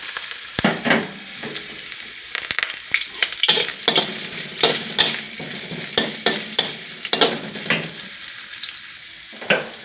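Ginger drops into a pan with soy sauce and sizzles for chicken adobo, followed by a run of rhythmic stirring scrapes and clinks of utensil on metal, close and fairly loud, with no speech.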